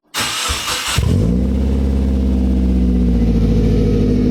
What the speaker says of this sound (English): I believe it's a Sebring tuning exhaust system.